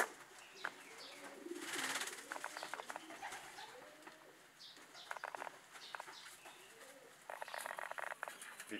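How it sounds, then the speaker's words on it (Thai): Pigeons bathing in water at a racing-pigeon loft, with soft cooing and repeated bursts of flapping and splashing wings at close range, coming in short clusters with quieter gaps between them. "ก็ชมกันเพลินๆครับนกอาบน้ำครับชมกันเพลินๆครับ"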